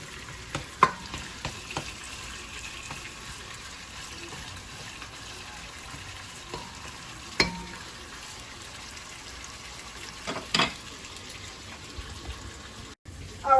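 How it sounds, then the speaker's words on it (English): Bacon fries in a pan on a stovetop, a soft continuous sizzle with occasional sharp clinks and scrapes of a utensil against the pan. "The bacon started to fry down some."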